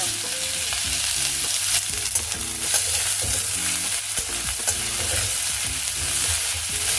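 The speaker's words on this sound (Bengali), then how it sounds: "এখন কুচিয়ে রাখা পেঁয়াজগুলো এর মধ্যে দিয়ে দিলাম।" Chopped onions sizzle steadily in hot oil in a pan, a dense, continuous frying hiss with occasional stirring scrapes, close and fairly loud with no voices, for an egg devil preparation.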